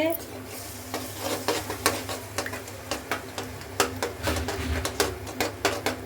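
Eggs frying in oil in a pan, a steady close sizzle broken by a run of sharp regular clicks and scrapes as the pan is stirred.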